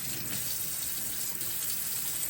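Room-temperature tap water runs steadily to rinse a freshly repotted store-bought houseplant, a constant close splashing stream with no one speaking over it.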